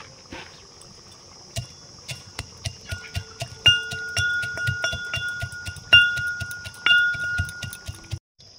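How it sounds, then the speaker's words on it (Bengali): Roasted peanuts are lightly crushed with steady rhythmic taps and cracks, close and fairly quiet, over a constant high insect-like hiss in the background. "ভাজা বাদামগুলো হালকা ভেঙে নেব।"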